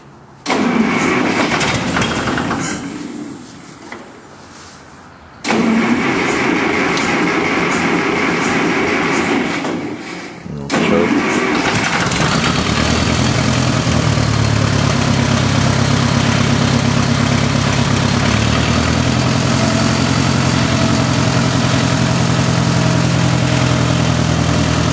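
A cold 1965 Case 441 tractor engine cranks in two short bursts with pauses, then catches and settles into a loud, steady, rumbling idle that carries on alone.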